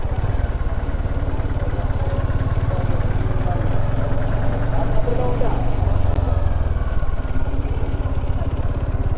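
A motorcycle engine idles in a steady, rapid low throb near a parking spot at the Athirappilly waterfall, continuous and close, with a faint rattle over it.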